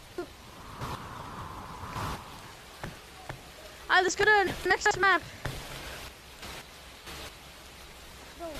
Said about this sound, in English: Rain so hard!